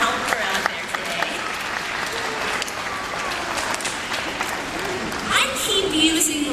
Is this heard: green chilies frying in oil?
no